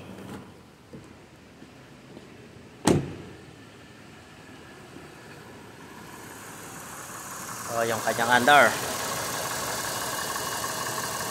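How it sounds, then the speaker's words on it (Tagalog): An idling Toyota 1GR V6 engine in a Land Cruiser runs steadily with a faint mechanical valve lifter ticking, someone talking over it and a short sharp knock early on. "So, yung naririnig nyo ay yung kanyang valve lifter."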